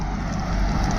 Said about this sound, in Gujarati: ધુમ્મસ છે અને વરસાદ પડે છે